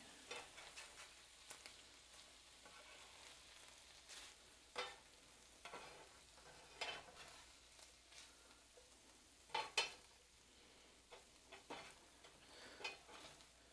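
Bacon ends sizzle quietly in a pan for breakfast, a soft steady fry broken by intermittent scrapes and stirring taps, with no one talking.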